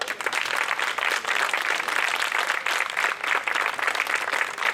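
A crowd applauds the organizers of a neighborhood Festa Major in Besòs i Maresme, with quick overlapping claps forming a lively, fairly soft wash that pulses slightly throughout.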